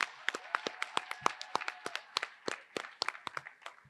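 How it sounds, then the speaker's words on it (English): Scattered hands clap together in a loose round of applause for poetry recitation competitors at a school finals, sharp irregular claps overlapping steadily for several seconds with no voices. "let's give our competitors one more round of applause, please"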